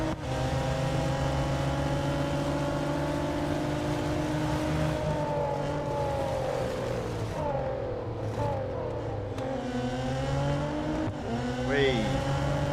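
A race car in the video game Real Racing 3 drones steadily with its engine note rising and falling through gear changes, a brief tire squeal near the end, and someone talking over it.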